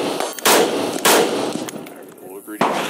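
A CZ Bren 2 MS 14-inch 5.56mm rifle fires at a shooting range: three loud, close reports spaced unevenly, each followed by a brief ringing tail.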